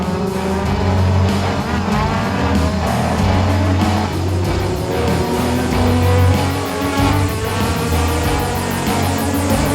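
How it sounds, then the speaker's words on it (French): Formula One racing cars roar away at a race start, with a dense, loud blend of high-revving engines that stays steady throughout, and no talk over it. "Senna prend un bon départ contrairement à Gerhard Berger et sa Benetton en 7ème place qui dégringole."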